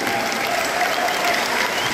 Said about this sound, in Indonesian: Tepuk tangan buat semua relawan yang ada bersama kita di sini.